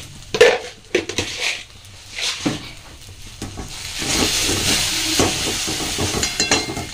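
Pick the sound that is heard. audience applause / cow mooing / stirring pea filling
stirring pea filling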